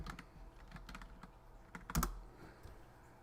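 Close computer keyboard typing during a weather broadcast, a handful of crisp keystrokes spread out unevenly, with one heavier thump near the middle, no talking.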